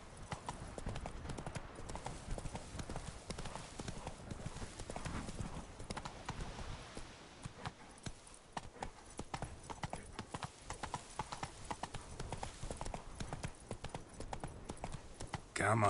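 Horse hooves galloping in The Witcher 3 video game: fast, continuous rhythmic clip-clop, close and steady for the whole stretch, with someone speaking briefly over it.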